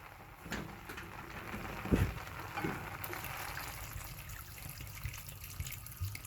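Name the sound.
water pouring into a pot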